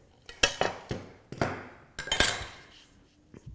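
Art glass being pared down by hand, giving a run of sharp clinking and chinking strikes in uneven bursts with short ringing decays, close and clear with no voices.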